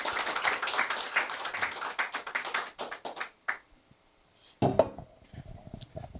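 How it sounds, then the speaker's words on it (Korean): Audience applause welcoming a speaker at a Korean media awards ceremony and sponsors' night, a burst of close hand clapping that thins into scattered claps and fades, then a few last claps. "큰 박수로 환영해 주시기 바랍니다."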